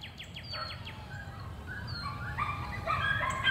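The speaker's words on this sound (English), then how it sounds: "And again, this is our Bullet dog." A dog named as a Bullet dog whimpers and gives a few soft yips and barks in a yard, close and fairly quiet over low background noise, without talk.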